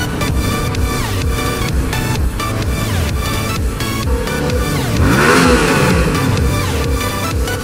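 Motorcycle with a mild aftermarket exhaust heard on an evening ride, engine note steady and close throughout, rising in a loud rev sweep near the end.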